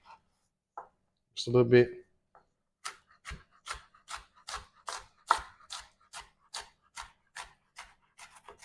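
A small amount of onion chopped on a cutting board for stuffed peppers: a steady run of crisp knife taps, about two per second, close and clear, after a brief spoken remark.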